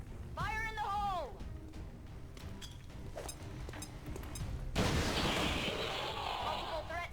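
A grenade detonates in XCOM 2, a sudden loud broadband blast that follows a stretch of voices and game sounds and then rumbles on with debris noise to the end.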